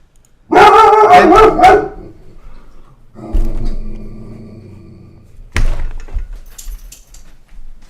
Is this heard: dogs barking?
yes